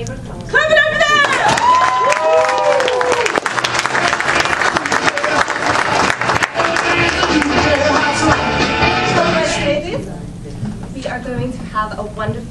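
Loud applause and cheering at a student showcase, a crowd clapping hard while voices whoop and shout over it, tapering toward the end as talk resumes.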